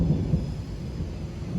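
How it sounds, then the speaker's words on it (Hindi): Low, steady rumbling thunder rolls beneath the wash of a heavy downpour, a deep continuous roar with no clear separate cracks, lasting throughout. "बिजली भी कड़क रही है।"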